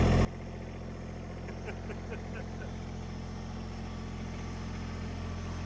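A low, steady tractor engine rumble idles continuously in the background, with a few faint clinks and murmurs over it.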